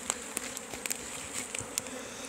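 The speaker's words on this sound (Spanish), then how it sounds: "Estamos apreciando las abejas." Wild bees buzz around fallen logs, a steady insect hum with sharp, irregular flickers as individual bees fly past close to the listener, with no voices.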